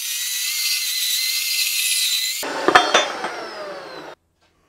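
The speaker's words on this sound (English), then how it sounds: "I'm gonna cut this in half and show you how much penetration there is." A TIG-welded steel roll cage tube being cut in half with a power tool, a steady high whine that shifts into harsher grinding and a few sharp knocks, then silence, no talk.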